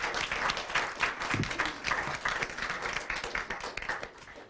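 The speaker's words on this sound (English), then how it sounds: "Let's have a round of applause for round 5." Moderate applause from an audience at a school district spelling bee after a round, with a patter of many hands clapping at a medium distance and no talk over it.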